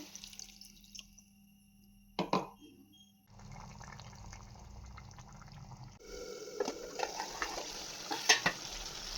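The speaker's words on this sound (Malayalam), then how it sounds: "ആ ജാറ് കഴുകിയ വെള്ളം മാത്രം ഞാൻ ഒഴിച്ചു കൊടുക്കുന്നു" Water from rinsing a jar is poured into chicken frying in a pan for South Indian chicken chukka, giving a sizzle, a brief splash and stirring scrapes, with the frying hiss growing louder near the end.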